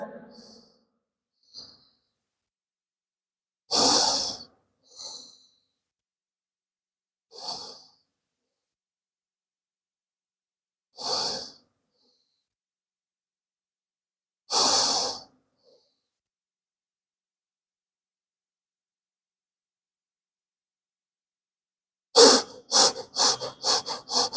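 Forceful breaths during Kundalini yoga come as separate sharp exhalations spaced a few seconds apart, close and loud, then quicken into a rapid rhythmic series at the end.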